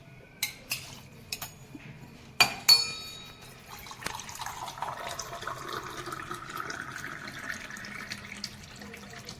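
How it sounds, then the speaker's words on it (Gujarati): A few sharp clinks of metal and glass, then a steady stream of water pours and splashes into a pot, rising in pitch as it fills. "1-2 ગ્લાસ જેટલું પાણી રેડીશું।"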